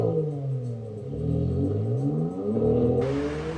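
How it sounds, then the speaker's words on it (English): A 2007 Porsche Cayman S 987 drives up with a steady engine note that rises and swells as it nears, then holds a throaty rumble close by. "So my buddy Becker just drove over this beautiful vehicle"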